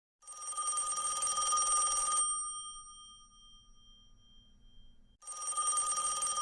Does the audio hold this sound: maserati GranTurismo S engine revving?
no